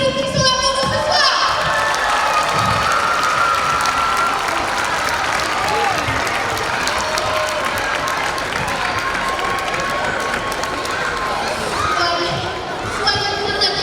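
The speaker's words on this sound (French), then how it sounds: "j'aimerais que nous applaudissions bien fort Yasogo et Mastic" Loud, sustained applause fills the hall at an award ceremony, with cheering and shouting from the crowd and voices beneath the dense clapping.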